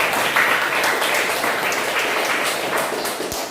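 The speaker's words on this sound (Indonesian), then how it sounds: "Tepuk tangan untuk kelompok 1" Classroom applause for a student discussion group after its presentation, a dense patter of many hands clapping steadily for several seconds, fairly close and even.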